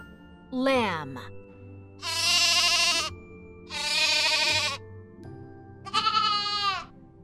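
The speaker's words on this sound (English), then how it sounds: "Baby sheep is called a lamb." A lamb gives three loud, drawn-out bleats with short pauses between them. The last one rises in pitch, and a brief chirp comes before the first.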